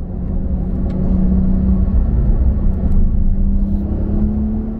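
A car circles a race track at low speed, its engine giving a steady close-up rumble with a faint hum and a mild rise in revs, alone without talk.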